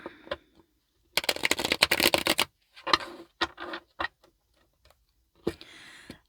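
A quick riffle of tarot cards shuffled close up, followed by scattered taps and shorter card flicks, then another brief shuffle.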